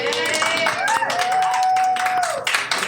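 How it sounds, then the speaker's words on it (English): Applause from a small audience at a poetry reading for a podcast event, a steady wash of clapping with a thin sustained tone running through it. "I'm clapping loud. Clap, clap, clap, clap, clap."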